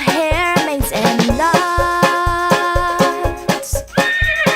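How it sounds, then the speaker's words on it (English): Horse neighing over a bouncy children's song with a steady rhythmic beat; the shrill, wavering whinny rises above the music near the end. "can you neigh like a horse?"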